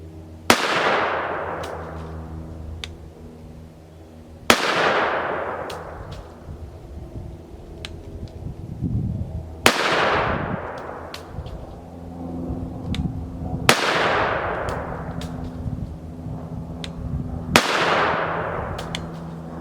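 A Kel-Tec P50 pistol in 5.7x28mm fires five sharp, loud shots spaced evenly about four to five seconds apart, each with a brief ringing outdoor decay.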